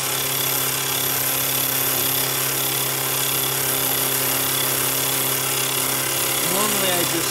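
Metal lathe with square stock held in a 3-jaw chuck, taking one heavy solid pass to turn it round, giving a loud, steady machining roar with a constant hum and a brief rising whine near the end.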